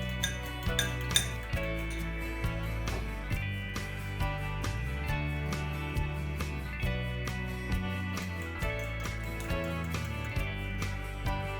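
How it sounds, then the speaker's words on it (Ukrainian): An egg is beaten in a bowl, probably with a fork or whisk, for tea biscuits. Quick, regular light clinks of utensil on bowl repeat steadily throughout, with continuous music playing underneath. "Окремо збиваю одне яйце."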